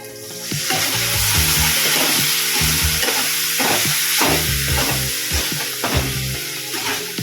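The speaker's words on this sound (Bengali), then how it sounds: "ভালো করে কষিয়ে নেব" Spices sizzle loudly as they are sautéed for a fish head curry, with steady frying hiss and repeated scraping stir strokes close by, no voices.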